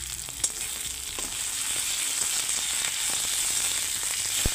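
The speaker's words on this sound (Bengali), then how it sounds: "আদা রসুন বাটা দিয়ে খানিকক্ষণ ভেজে নেব" Ginger garlic paste frying in a pan with chopped tomato for a fish-head and Malabar spinach curry: a steady, loud sizzle throughout, with occasional small pops and stirring knocks.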